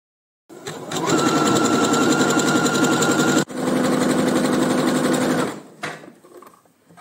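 A sewing machine stitches fabric with a widely spaced stitch along the edge, its motor whirring in a fast steady run with a brief hitch midway, then stopping near the end.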